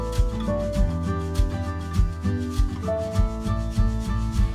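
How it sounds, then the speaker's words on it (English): Sheet of paper being folded diagonally for an origami fish, close rubbing and creasing strokes in a repeated rhythm, some background tones beneath, no voices. "Turn your page over to the plain side and fold diagonally."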